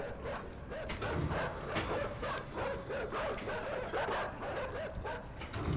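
Dogs in the video game Inside, a steady run of close, loud barks and yips with whimpering, repeated throughout a few seconds.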